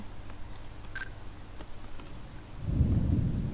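Rain and thunder in the Jack-O'-Lantern video game: a few faint clicks and light patter, then a loud low rumble of thunder swells in at the end over steady rain.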